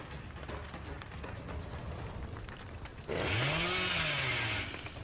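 A chainsaw in the Dead by Daylight horror game roars into a loud revving whine with a rising and falling pitch, following a few seconds of quieter background ambience.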